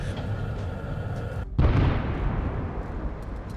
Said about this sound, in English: A direct hit on an apartment building.